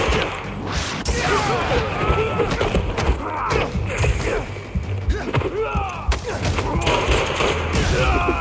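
Rapid bursts of gunfire with crashes and mechanical clatter in the Spider-Man 2 video game on PS5, loud and dense throughout, with voices shouting over the combat.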